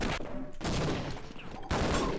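Sniper gunfire in the video game Half-Life during a one-on-one match, with sharp cracks and dense bursts of shots echoing across several seconds.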